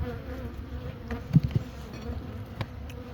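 Honeybees buzz steadily at a hive, a dense low hum with a few louder insects passing close.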